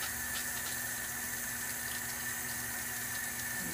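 Water pours steadily from a tap in a salon sink while hair is rinsed, a continuous close hiss and splash with no speech.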